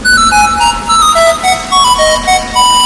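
A bright electronic ringtone melody plays loudly, repeating its short tonal pattern several times.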